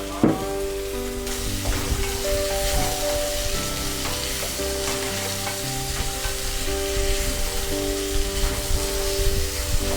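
Chopped bell peppers and onions sizzle in a pan, a constant dense crackle of frying with occasional stirring clicks and scrapes throughout, loud and close with no talking.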